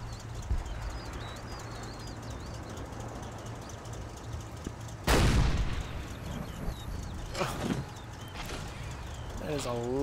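Tank gunfire exchanged in the World War II tactics game Combat Mission Red Thunder, with Panzer IV tanks under fire: one loud sharp blast roughly midway, then a couple of fainter shots, over steady battlefield ambience and birdsong.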